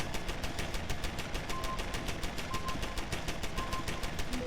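Automatic turret in a video game firing continuously, a loud relentless rattle of fast, evenly spaced shots with faint tonal beeps over the barrage.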